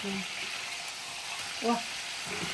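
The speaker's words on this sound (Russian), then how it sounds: "Пусть жарится, она толстая." Thick fish sizzles steadily in a frying pan, a soft continuous fry with a few brief clicks and low voices in the background.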